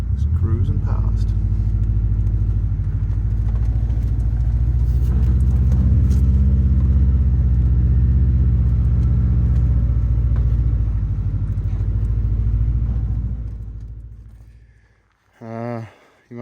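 A lifted Subaru Forester XT cruises along a road in outback Australia, with a steady, loud low engine and road rumble from inside the cabin that fades near the end, while a person talks over it.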